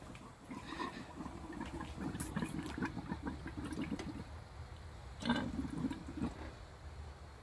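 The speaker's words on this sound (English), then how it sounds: "You can hear the pump running." A 12-volt water pump on a houseboat runs steadily, drawing water up from the tank, with a continuous low hum under soft trickling and splashing of water, moderately close and unbroken for the whole stretch.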